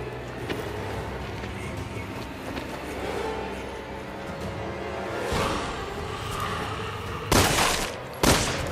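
Resident Evil 6 video game gunfire crackles over a dense mix of low rumble and action noise, building to two sharp, loud bursts near the end with no speech.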